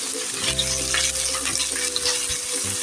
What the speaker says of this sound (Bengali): এর মাঝে আমি দিয়ে দিলাম মুরগির মাংসটুকু, কারণ আমি পেঁয়াজের সঙ্গে এই মুরগির মাংসটুকুও হালকা ভেজে নিব